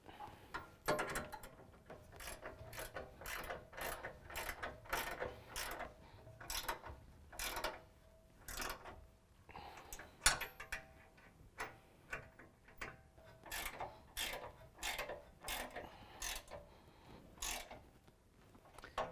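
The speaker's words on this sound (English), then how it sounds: "Now we can use an 18mm ratcheting wrench to tighten down our bumper to our bracket." 18mm ratcheting wrench tightening rear bumper bolts on a 2017 Ram 1500, a long series of quick ratchet clicks in regular bursts with brief pauses, close and fairly quiet, no voices.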